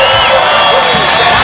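NASCAR race crowd roaring and cheering after Bobby Labonte's win, a loud, dense, continuous wash of distant voices and whoops.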